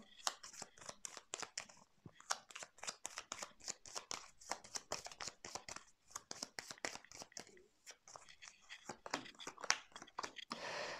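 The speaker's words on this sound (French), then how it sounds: "Je vais mettre quelques cartes sur les choix." Tarot cards are shuffled and laid down in a steady stream of soft flicks and papery slaps, close and quiet, with a voice speaking French faintly beneath.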